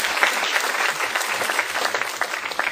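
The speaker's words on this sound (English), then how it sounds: "Please give him a round of applause" A conference audience at a sports law event applauds a speaker with steady, dense clapping that fills the room for a few seconds, with no talk over it.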